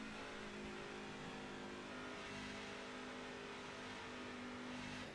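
A racing truck engine holds a steady, buzzing high-rev drone at about 6,000 RPM, short of full throttle, during a truck race at Pocono. It is continuous and fairly faint, with no voices over it.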